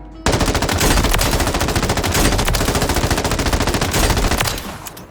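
An M13 rifle fitted with a Jack BFB muzzle attachment fires in a video game, one loud, close, unbroken full-auto burst of rapid shots for about four seconds before it stops and fades.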